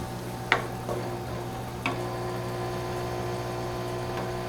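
Onions sautéing in olive oil in a pan for chicken cacciatore, a steady soft sizzle with a constant low hum beneath and two brief utensil clicks near the start.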